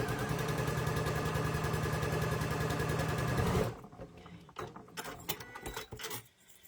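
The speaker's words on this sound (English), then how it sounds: "So I'm just going to stitch this on now." A sewing machine stitches quilt block pieces with a quarter-inch seam, running steadily with a fast, even mechanical whir for several seconds, then stopping to leave scattered handling clicks and rustles.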